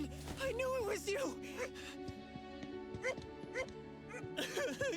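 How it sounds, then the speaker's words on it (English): Cartoonish dog yips and whimpers in a video game, with short barks and whining cries mixed over music and a speaking voice throughout. "Where have you been, you bad doggy?"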